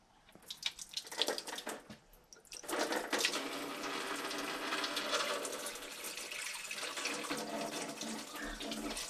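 Antifreeze pours out of the water jacket of a 1964 Plymouth Fury station wagon engine after a bolt is removed: a broad, steady rushing splash onto the floor, starting with sputters and then flowing continuously; no speech.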